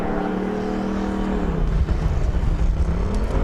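A Formula Student race car runs the skid pad at Formula Student Germany, its engine holding a steady droning pitch before the note drops and turns rough and rumbling, loud and close throughout with no voices.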